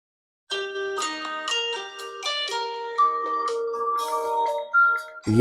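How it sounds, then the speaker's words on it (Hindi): A Tecno Spark Go 3 phone plays a melodic ringtone through its single speaker, a bright chiming tune of stepped notes that sounds loud and close with no talking over it. "साउंड इसकी सुन लेते हैं, सिंगल स्पीकर के साथ ये फ़ोन है।"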